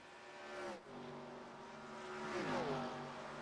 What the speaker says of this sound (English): I think I just heard an engine blow.